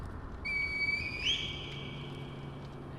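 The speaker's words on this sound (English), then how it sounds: "let's blow the reed whistle and summon Kuro so we can get out" In the video game Sekiro: Shadows Die Twice, a reed whistle is blown, giving one clear, sustained high tone that bends upward briefly, then holds and fades over a low, steady game ambience.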